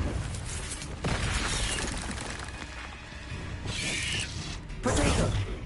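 The Confringo blasting spell goes off in Hogwarts Legacy, a dense run of crackling, shattering bursts over a rumbling low end, with brighter impact flashes near the middle and the end.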